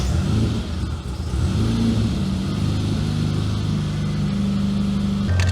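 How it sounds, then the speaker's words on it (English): A classic Mini engine, just started, runs at a steady, fairly high idle with a continuous low mechanical hum and slight pitch shifts, close and loud throughout. "Let's first start up the car."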